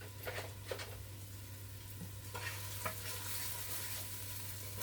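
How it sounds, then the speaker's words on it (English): Garlic and onions sizzle steadily in a frying pan while a wooden spoon stirs them, with a few scraping strokes standing out over a low constant hum; no one speaks. "give the garlic and the onions a little stir"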